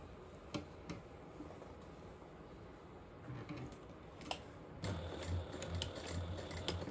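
A sewing machine stitches fabric dinosaur nugget shapes in short bursts of rapid mechanical ticking, with pauses and handling clicks between runs. The sound grows louder and steadier near the end.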